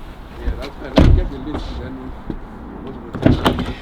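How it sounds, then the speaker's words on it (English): Door of a 2025 BMW 2 Series car being worked, with a sharp thud near the start and another toward the end, separated by softer handling noise. "now the door will still open from the outside"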